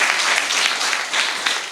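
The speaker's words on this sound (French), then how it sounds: "je pense que ça, on doit quand même vous applaudir très fort." Audience applause for a school's classes, a dense continuous burst of many hands clapping at close range, steady and loud throughout with no speech over it.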